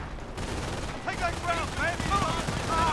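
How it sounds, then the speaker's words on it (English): Machine gun fire in the Company of Heroes video game, moderately loud bursts of rapid shots mixed with distant battle noise and whistling sounds, with no voices over it. "Oh wow, they have a machine gun team here."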